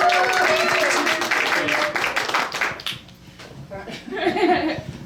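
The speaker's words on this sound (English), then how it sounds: "Let's get some applause for the top of this scene." A comedy show audience applauds loudly for a few seconds. The clapping fades, a short lull follows, and then a second, smaller round of applause comes with some voices.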